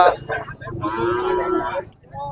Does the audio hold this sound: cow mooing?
yes